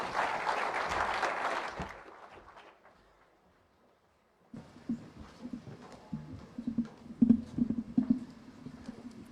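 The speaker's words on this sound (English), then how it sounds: "Another round of applause for our Deputy President." Audience applause at the Kenya Urban Forum in Naivasha: a loud burst of clapping fades out over two seconds. After a brief quiet, scattered thumps and shuffling follow.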